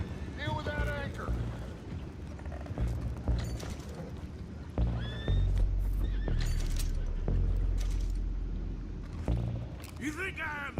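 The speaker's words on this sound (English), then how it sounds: "Go find out about those horses down below." Horses in Red Dead Redemption 2 whinny and neigh several times, with clip-clopping hooves and game ambience beneath, while characters talk over much of the scene.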